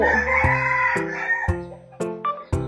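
A rooster crows loudly and close, its harmonic calls breaking into several short, repeated segments over a few seconds.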